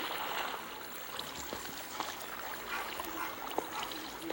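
Steady rushing flow of water in a Minecraft parkour map, a continuous broadband wash with small trickling splashes, played alone at a constant level without voices.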